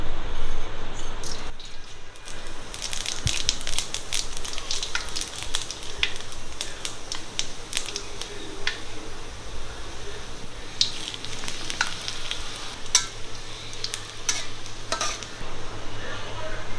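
Panch phoron whole spices crackle and sizzle in about a cup of hot mustard oil for a Bengali mango pickle, a steady close fry with scattered sharp pops and occasional utensil clinks, no talking.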